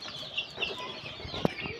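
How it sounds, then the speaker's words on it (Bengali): Several chickens of different breeds in a farm cage cluck in short, scattered calls, with one sharper squawk standing out, close and moderately quiet over a faint background. "আমাদের খাঁচায় কয়েক প্রজাতির মুরগি আছে"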